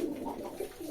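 Breeding pigeons tending young chicks give a short run of soft, rolling coos, close by and alone.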